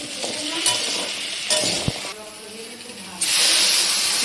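Pumpkin and potato pieces tipped into a simmering curry and stirred, with scraping spoon strokes over a steady hiss and sizzle that swells louder toward the end.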